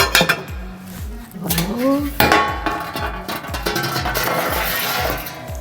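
A baking tray slides onto the side runners of an AGA simmering oven with metallic scrapes and clanks, mixed with clattering cookware and brief background talk.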